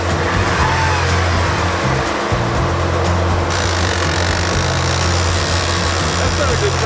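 An off-road SUV engine revs hard while the shifter fails to engage the transmission. A loud, steady, close roar continues throughout without a break.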